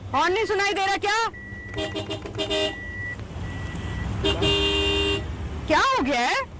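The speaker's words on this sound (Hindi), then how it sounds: "इतनी देर से हॉर्न बजा रही हूँ," A car horn toots in short and longer blasts between stretches of talking, close and loud, with traffic noise underneath.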